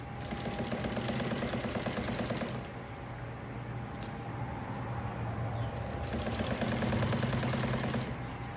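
A sewing machine stitching a long hem, running in a steady rapid mechanical rattle close by, with a brief slowdown midway before picking back up to full speed.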